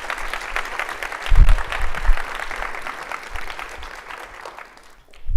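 A conference audience claps in a dense round of applause with a few low thumps and muffled voices, tapering off toward the end before a sudden louder sound.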